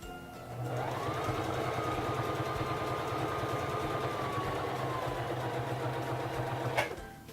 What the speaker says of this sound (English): Bring down your presser foot and begin sewing.